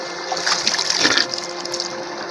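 Ice-cold mountain stream on Mt. Kenya, water gurgling and splashing close by in an irregular, lively trickle with a few stronger gushes, heard alone.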